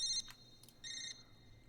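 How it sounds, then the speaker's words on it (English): A sampled phone ring for a dark trap beat: short bright electronic trill bursts, one at the start, a brief blip, then a longer ring, clean and dry with no reverb. "I got a little phone sample right here"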